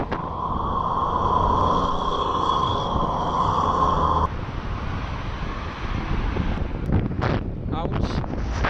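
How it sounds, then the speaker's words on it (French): Wind buffets the microphone of a cyclist touring on the road, a loud continuous rumbling roar with a steady whistle-like tone in the first half, then rougher gusting and flapping toward the end. "C'est mieux à l'abri du vent."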